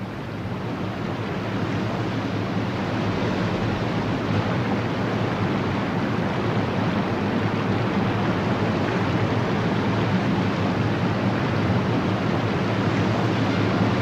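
Salto del Laja waterfall on a river in southern Chile, a dense continuous roar of falling water, broad and steady throughout without any voices.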